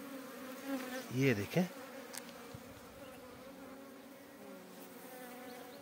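Honeybees from a newly caught swarm buzz close by around their queen in a steady insect drone, with brief louder bursts near the start and a person speaking a few words.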